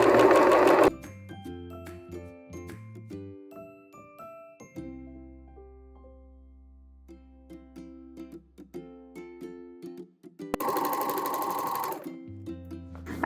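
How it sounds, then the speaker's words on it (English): A serger sewing machine finishes the edges of upcycled pants in short bursts of rapid mechanical whirring, stopping and starting with brief pauses and a few quiet clicks between runs, close and clear. "now it's time to serge the edges so that way we can clean it up"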